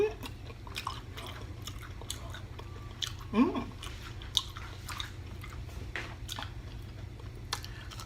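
Close-up chewing of a crunchy hot Cheetos-coated corn dog with sauce: wet, squishy bites with a few crisp crunches, steady and intimate at low volume.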